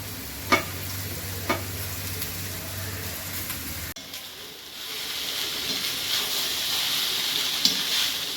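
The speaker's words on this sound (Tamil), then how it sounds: "இதையும் சேர்த்து நல்லா வதக்கிடுவேன்." Vegetable fried rice with lemon stir-fried in a pan, a few sharp utensil clacks over low hiss, then a broader, louder sizzle swelling in the second half.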